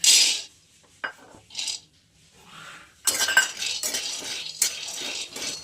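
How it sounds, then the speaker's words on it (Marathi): Peanuts being roasted in a pan for sabudana khichdi, heard as bursts of dry metallic scraping and rattling as they are tossed, separated by short quiet gaps, with denser continuous rattling in the second half. "तर आपण आहे ना पहिले तर शेंगदाणे भाजून घेऊया"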